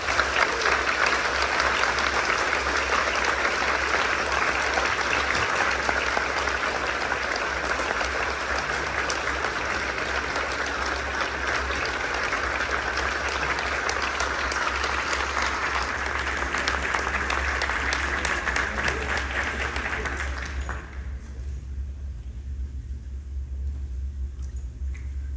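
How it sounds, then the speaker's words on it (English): Sustained audience applause at a school concert, a dense wash of clapping lasting about twenty seconds before dropping off abruptly and leaving a low room rumble. "Please join me in welcoming my friend, my colleague, the 2022 Hall of Fame inductee, Mr. Ron Rogers."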